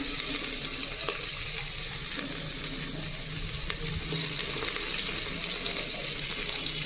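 Large onions frying in a pan of oil for veg biryani, a steady broadband sizzle that runs continuously and fairly loud throughout, with no talk over it.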